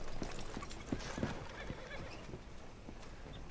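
A horse in the Red Dead Redemption 2 video game, with soft irregular hoof clops and snorts fairly close by over a steady outdoor ambience, quiet overall.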